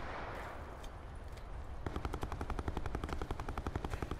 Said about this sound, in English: They're in a gunfight right now.